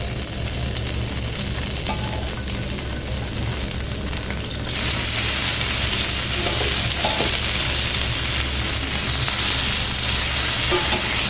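Boiled chicken frying in a pan, a dense close sizzle that grows louder about halfway through as pieces are stirred and turned, with no voices.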